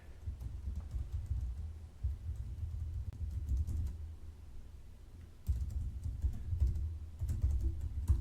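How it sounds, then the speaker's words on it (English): Keys clatter on a computer keyboard as a custom prompt is typed, quick irregular taps in bursts with short pauses over a low hum, fairly close and moderately quiet. "I'm going to select custom prompt to show you that you can actually type whatever you want here"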